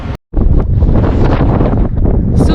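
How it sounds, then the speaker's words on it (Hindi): Very strong wind on a high mountain road in Ladakh, roaring loudly and buffeting the microphone almost without a break, apart from one short silent gap near the start. "बहुत तेज हवा चल रही है."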